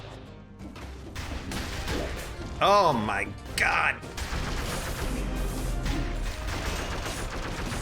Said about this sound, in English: These damn explosions explode so fast.